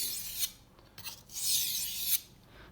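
A knife is drawn across a water stone in light strokes, several close, soft rasping scrapes separated by brief pauses, quiet with no talking.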